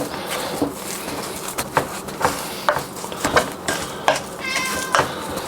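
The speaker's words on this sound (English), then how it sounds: "This cat's driving me crazy" A house cat meows repeatedly in a kitchen while a skillet meatloaf is stirred, its calls mixed with clattering pan and utensil noises in an uneven, busy rhythm, no talking.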